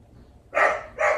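A dog gives two sharp, close barks in quick succession against a quiet room.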